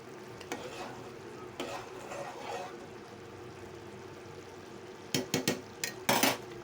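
Bitter gourd curry simmering and sizzling in a pan, a steady low bubbling bed broken by scattered spoon scrapes and clinks on the pan, with a cluster of sharper metal knocks near the end.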